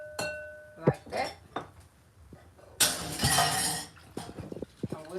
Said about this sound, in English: And whisk them around.